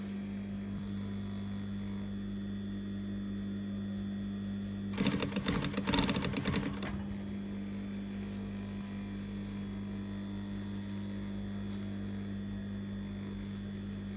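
A sewing machine stitches back over an existing seam on a notched collar, a short two-second burst of rapid mechanical chatter rising over a steady electrical hum that runs throughout.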